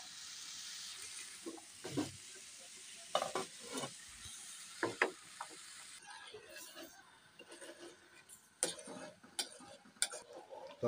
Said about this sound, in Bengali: তো আর এদিকে ডাউলটা একটু নেড়ে চেড়ে দিলাম।